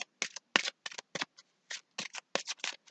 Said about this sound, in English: I always forget to shuffle the Wisdom of the Oracle card first